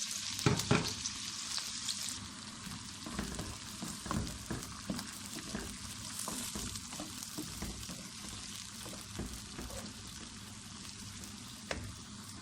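Onions and cumin fry in hot oil on a stove, giving a continuous, moderately quiet sizzle with occasional stirring scrapes and pops throughout.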